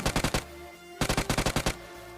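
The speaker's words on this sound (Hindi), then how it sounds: "लेकिन फिर ये मुझ पर फायर करते हैं" Rapid automatic gunfire rings out in PUBG Mobile, first a short burst of four loud shots, then a pause, then a longer burst of about nine shots, close and punchy.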